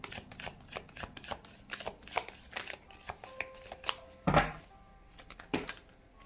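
Tarot cards are shuffled by hand in quick, soft riffling bursts, close and fairly quiet, with a single sharper slap of cards partway through.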